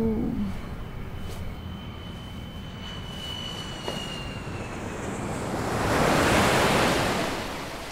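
Sea waves wash onto the shore in a steady surf wash, swelling louder as a wave breaks near the end, with wind buffeting the microphone and no talking.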